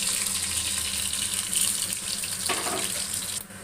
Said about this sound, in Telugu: ఆయిల్ కాగింది, ఎల్లుల్లిపాయ వేస్తున్నాను.